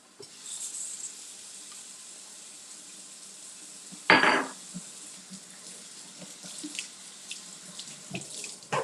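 Red vegetables are washed under a running kitchen tap, a steady hiss of water into the sink with one loud splashing clatter midway and a few light knocks; no speech.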